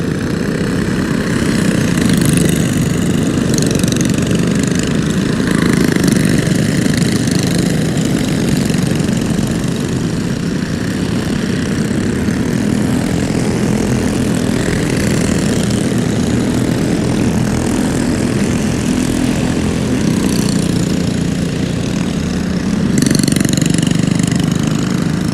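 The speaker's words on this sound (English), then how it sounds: "Our Cosmic Karts here are powered by the Hondas." Cosmic racing karts with Honda engines on a track, a continuous loud buzzing drone of engines that rises and falls as karts pass, with no talk over it.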